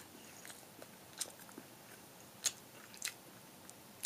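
Someone bites into and chews a broiled turkey burger topped with onions, ketchup and seasonings; soft, sparse crunches and squishy chewing sounds come close and quiet, spaced out with short pauses.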